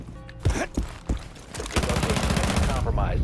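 Rainbow Six Siege gunfire on the Clubhouse map, a few sharp single shots followed by a loud sustained burst of automatic fire, close and dominant.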